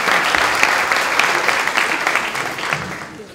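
Sustained applause from an audience, steady clapping filling the room for a few seconds without a break.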